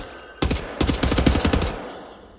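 Assault rifle gunfire in Wolfenstein: The New Order, a single shot followed by a sustained rapid automatic burst of sharp, loud cracks lasting about a second, up close with no talking.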